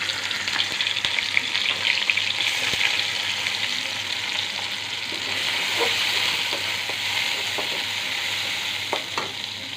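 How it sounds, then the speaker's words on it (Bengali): Chopped onions fry in oil in a kadai for a fish and jackfruit-seed curry, producing a continuous close sizzle with intermittent scraping and stirring clicks, with no talking over it. "এবার আমি এই কড়াইয়ে আরেকটু তেল ব্যবহার করব। তো তেলটা দিয়ে দিলাম। এবার আমি এখানে পেঁয়াজ কুচি দিব।"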